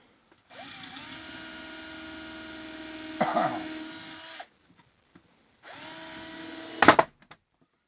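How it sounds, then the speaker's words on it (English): A power drill whirs steadily for several seconds while pre-drilling screw holes in wood for a beehive, stops, then runs again in a second shorter burst, with a few clicks and knocks near the end. "you see me pre-drilling my holes"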